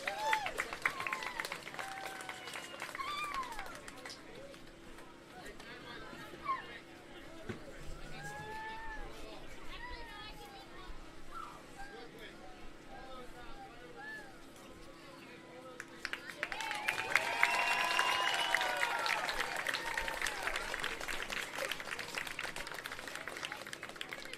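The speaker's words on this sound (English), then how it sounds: "Let's give North Carolina West Chatham team a big applause" Applause for North Carolina's West Chatham ponytails softball team at a tournament, steady crowd clapping and cheering at moderate distance with background chatter, swelling louder in the final stretch.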